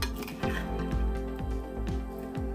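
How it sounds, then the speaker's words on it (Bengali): A spoon works through soaked, thickening sabudana in a pot, giving a few soft wet squishes with light scrapes and clinks against the metal, close and steady with no talking. "আমি আবার একটু নেড়ে চেড়ে নিচ্ছি।"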